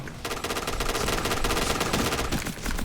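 Rapid automatic fire from a Kriss submachine gun in a shooting video game, loud dense bursts of shots filling the clip with a brief pause near the end.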